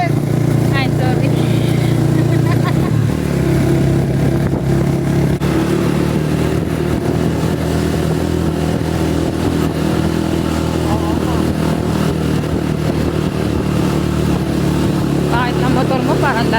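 A motorcycle carrying a rider and a passenger, its engine droning steadily and loudly at cruising speed with a constant rumble and wind, while people talk over it.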